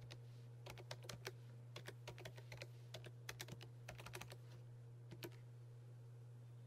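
Someone types an IP address on a computer keyboard, with quiet, close key clicks in short irregular bursts over a steady low electrical hum, no voices.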